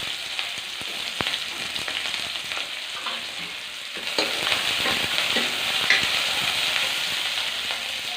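Onions sizzle steadily in hot oil in a wok, a continuous close frying hiss with occasional stirring scrapes and a few louder crackling bursts, no talking.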